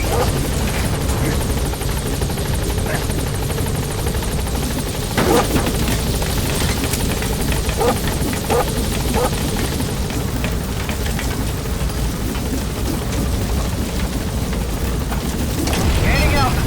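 A helicopter in Metal Gear Solid V climbs from a landing zone, its loud, steady rotor and engine roar filling the whole stretch with a few thumps and clanks, while voices talk over it at times.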